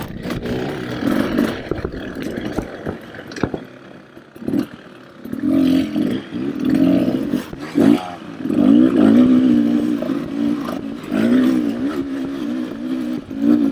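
A 2024 Beta 300RR Race Edition dirt bike engine, heard while riding up a hill after a downshift, revs up and down in a close, loud, continuous roar with surging pitch.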